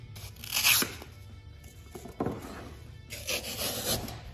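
Scissors trim the corners off a drop cloth floral decoration in a cottage-style craft, giving a few rough crunching, tearing snips in separate bursts, close and alone.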